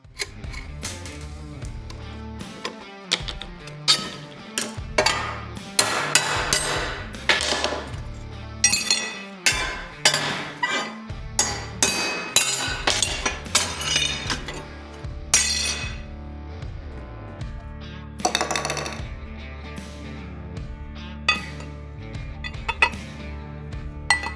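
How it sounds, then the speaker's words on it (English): A hammer smashes weld tacks on a Harbor Freight Bauer angle grinder mount with angled handles, producing a long series of sharp metallic bangs and clinks in irregular bursts, close and loud, with no talk. "I'm gonna disassemble it now and smash all the tacks with a hammer"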